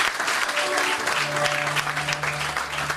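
A church congregation claps loudly and continuously in dense applause, with a low sustained tone humming underneath.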